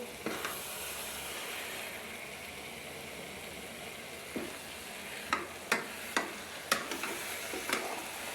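Carrot barfi mixture with milk and cardamom powder stirred in a pan, a low sizzle underneath and a series of scraping clinks from the spoon against the pan in the last few seconds.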